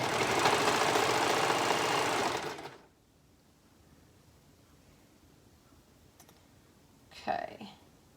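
A sewing machine stitching the folded raw edge into the end of a garment sleeve runs loud and steady for under three seconds, then stops, followed by quiet room tone and a brief soft handling sound near the end.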